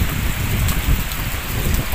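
Steady heavy rain pours down in a dense, hissing wash, close and constant for the whole stretch, following Typhoon Paeng.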